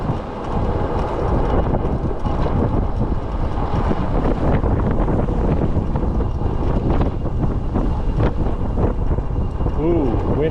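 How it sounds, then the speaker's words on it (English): Strong wind buffeting outdoors on a trip to Clearwater, a loud continuous roar rumbling against the microphone, with a voice heard briefly. "Ooh, wind picked up right here."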